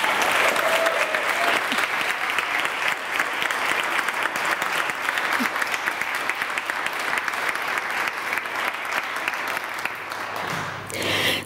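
A live studio audience at a televised finale gives sustained, loud applause, dense clapping from many hands that holds steady before easing off near the end.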